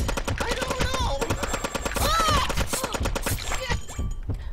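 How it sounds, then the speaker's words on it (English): Rapid bursts of gunfire in the video game Zombie Grinder rattle in fast repeated shots, loud and close, overlaid with game music and short tonal effects. "you shoot behind me, and I'll shoot"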